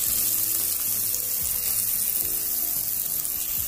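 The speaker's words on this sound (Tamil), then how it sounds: "இந்த ஸ்டேஜில் வெங்காயம் ஆட் பண்ணிக்கோங்க." Onions added to a hot pan for South Indian buttermilk gravy (mor kuzhambu), giving a steady loud sizzle and crackle that stays even throughout, with faint stirring and no talking.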